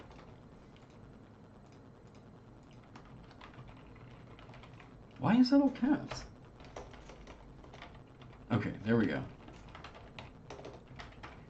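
Rapid typing on a computer keyboard, a soft, continuous patter of keystrokes that runs under two short bursts of someone talking.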